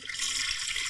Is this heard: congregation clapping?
no